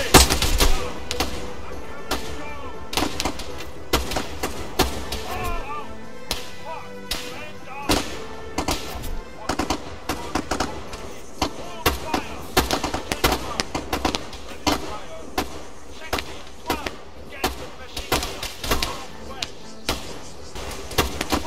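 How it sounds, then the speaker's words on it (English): Rifle gunfire in an Arma 3 firefight, a long run of sharp, loud cracks in irregular bursts and single shots, some close and some farther off, with voices calling out now and then. "Two, fire at that soldier, southeast"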